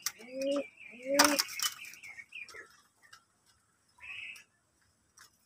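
Pigeons in a loft: a couple of soft, low coos and a short burst of wing flapping close by, then quieter chirpy calls in a fairly still room.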